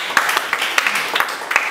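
A church congregation giving a clap of praise to God during a sermon: scattered, uneven hand claps from many people, fairly close and moderately loud, over a light hubbub.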